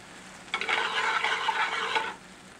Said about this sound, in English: The lobster mushroom pieces are sautéed in butter.